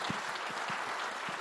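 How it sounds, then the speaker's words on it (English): Audience at a global financial leaders' investment summit applauding panelists on stage, a steady dense wash of clapping from a large crowd throughout. "give me a round of applause to our panelists"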